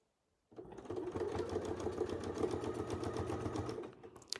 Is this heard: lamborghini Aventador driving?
no